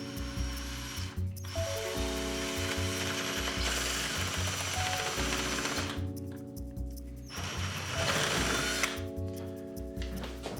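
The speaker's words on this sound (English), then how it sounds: "I just have to be careful that the drill bit doesn't bind when it tries to go through" A power drill bores through the claw of a vintage Colombo timbale from Argentina, giving a whining, grinding tone that rises and falls in pitch as the bit slows and speeds up, close and loud with no talk.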